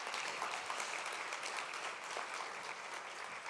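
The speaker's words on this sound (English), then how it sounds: "let's give her a round of applause" A seated audience at an opening-remarks event gives a steady round of applause to welcome New Jersey's Lieutenant Governor. The dense clapping is even and moderately distant, with no speech over it.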